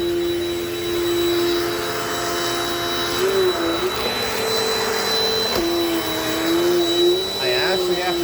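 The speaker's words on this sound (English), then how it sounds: "this vacuum is doing a really great job" Dirt Devil Dynamite Plus vacuum cleaner running with a steady motor whine that dips and shifts pitch a few times as it works, loud and close for about eight seconds, with some faint voice underneath.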